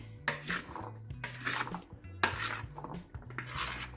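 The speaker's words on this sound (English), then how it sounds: "I'm just going to give it a stir and kind of start mixing these together before I add the rest." A spoon clinks and scrapes against a bowl while a chickpea and roast pumpkin salad is stirred, giving several loud rhythmic metallic strikes with low rubbing in between.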